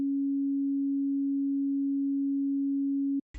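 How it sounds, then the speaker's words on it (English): A 3xOsc synthesizer oscillator plays a pure, steady sine tone held for about three seconds before it cuts off and a short bit of noise follows. "a sine wave"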